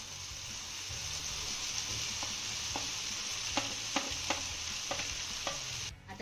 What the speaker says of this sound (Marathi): आता चिरलेल्या चपात्या आपण यामध्ये घालूया.